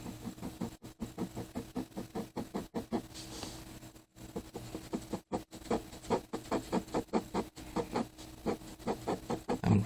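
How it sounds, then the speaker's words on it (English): A pencil cross-hatches on paper while a skull is drawn, a close, quiet run of rapid rhythmic scratching strokes in short bursts with tiny pauses between them. "I'm kind of just cross-hatching into the eye because I don't think it's a big deal."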